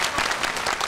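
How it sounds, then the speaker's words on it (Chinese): Audience applause at a televised variety show game segment, a brief burst of dense, lively clapping from a crowd filling the whole moment. "我们掌声再鼓励一下啊"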